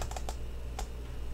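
Keystrokes on a computer keyboard, a few quick light taps in a short burst, close and faint with no talk.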